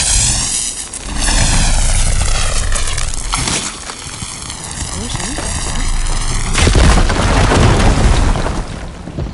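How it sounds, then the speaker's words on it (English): A firegleam blown up in Horizon Forbidden West: droning, tonal game sounds build up, then a sudden loud broadband blast bursts in late and rumbles on. "Should be able to blow up that fire gleam."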